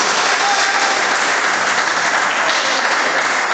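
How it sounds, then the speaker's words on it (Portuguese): A church congregation bursts into joyful applause, a dense, steady wash of many hands clapping together throughout, loud and close, with no voices rising above it. "dê uma salva de palmas bem alegre para Jesus"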